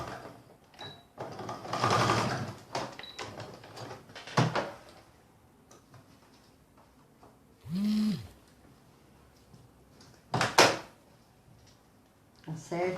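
A sewing machine runs in a few short bursts while stitching thick layered fabric for a coaster, close by, with quiet handling noises and pauses between runs.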